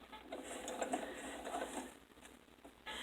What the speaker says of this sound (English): do a small back stitch right there up to the needle